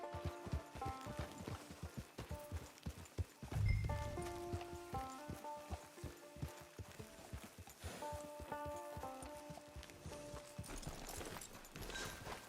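Horse hooves clip-clop in a steady walking rhythm in the Western video game Red Dead Online, close and continuous under a layer of soft background music.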